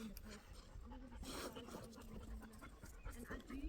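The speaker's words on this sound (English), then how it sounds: "Doggy doggies." Dogs pant faintly and quickly, with a few small whimpers, on a hiking trail near Kalk Bay, under quiet background voices.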